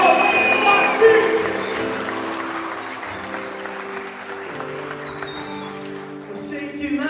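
A church congregation applauds over loud background music with sustained tones, the clapping fading gradually under the music.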